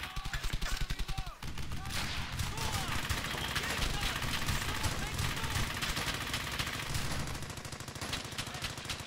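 Sustained MG-42 machine gun fire in the World War II shooter Brothers In Arms, rapid rattling bursts throughout with dense battle noise and voices speaking over it.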